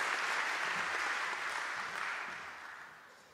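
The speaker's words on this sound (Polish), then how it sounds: "Brawa dla marszałków." Sustained audience applause at a ceremony marking the 25th anniversary of the Silesian Voivodeship's regional self-government, a steady dense clapping from a large crowd that slowly fades toward the end.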